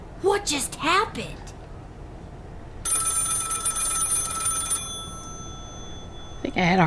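A telephone rings in a video game, a bright, steady electronic trill lasting about two seconds, between short bursts of game dialogue and squeaky voice sounds.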